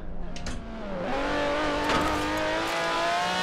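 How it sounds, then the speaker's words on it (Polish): A V12 car engine in the video game Forza Horizon 4 revs up loudly and continuously, its pitch dipping then climbing as it accelerates, with a buzzy, insect-like whine. "No i dźwięk, chyba V12 tu włożyli."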